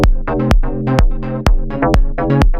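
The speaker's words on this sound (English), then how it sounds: "So that sounds like this when you crank it." Synth bass and lead pumping under sidechain compression keyed from the kick, the sustained tones ducking on each beat in a loud, regular swell-and-drop rhythm.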